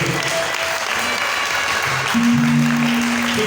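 A church congregation at a Sunday service applauds continuously, a dense wash of clapping with a few raised voices and cheers rising over it toward the end.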